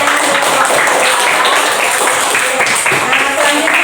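Fifth-grade pupils in a classroom clap together in a dense, continuous burst of applause that stays loud and close for its whole length, with no pauses.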